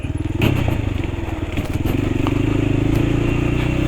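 Trail bike engine chugging close by over a rough, potholed trail on the way to a beach, with a steady throbbing motor and scattered rattles and knocks from the bumps.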